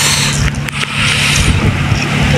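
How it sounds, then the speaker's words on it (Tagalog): Strong wind buffets the microphone with a steady roaring rush alongside sea noise at a seaweed-planting site off South Korea, a continuous loud blustery wash with no voices. "Grabing lakas ng hangin at dagat."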